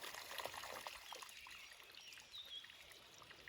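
Water trickling and flowing down at a gold prospecting site in Indiana, a faint, steady outdoor trickle with no voices.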